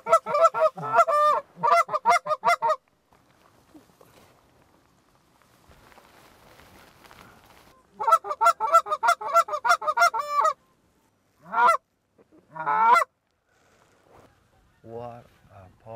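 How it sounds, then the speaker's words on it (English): Geese honk repeatedly in loud bursting clusters during a goose hunt in an open field, coming in waves separated by quiet gaps, with a few softer scattered calls and faint rustling toward the end. "I hear geese."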